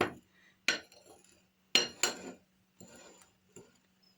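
A spoon stirs coffee mixed with vanilla extract, giving a few separate sharp clinks and taps against a container, close and sparse, with no talking.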